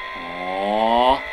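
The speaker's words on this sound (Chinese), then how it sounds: "加速引擎的声音" A Ferrari SF90 remote control toy car plays its electronic engine acceleration sound, a single buzzy tone rising steadily in pitch and loudness for about a second before cutting off abruptly, loud and close.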